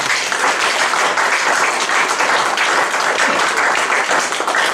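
A church congregation applauding together during a Sunday worship service, a dense, steady wash of clapping that fills the room at full volume from start to finish.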